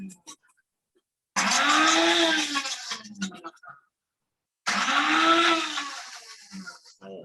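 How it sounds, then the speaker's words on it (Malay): A kitchen blender running on its ice function to crush ice, loud and close, whirring in two long bursts separated by a short pause, its motor pitch rising and falling as the ice breaks up. "cikgu Ais menggunakan function ice blender"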